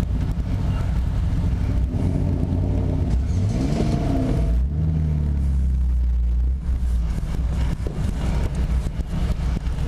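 A 1980s Toyota Supra engine rumbling loudly while driving, a deep steady drone with a rising rev in the middle, wind buffeting over it, heard from inside a car.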